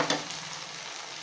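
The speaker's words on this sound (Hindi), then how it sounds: "अदरक लहसुन का पेस्ट डालेंगे, 2 चम्मच डाला है मैंने, अच्छे से मिला लें" Ginger garlic paste sizzles and fries in a hot pan for a Kolkata-style chicken curry, with a sharp stirring scrape near the start and then a steady, close hiss throughout, no voices.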